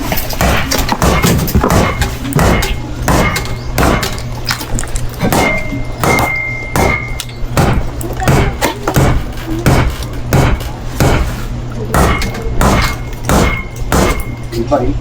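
Hammer blows struck repeatedly in a fast, uneven series of sharp close knocks, with people talking over the banging.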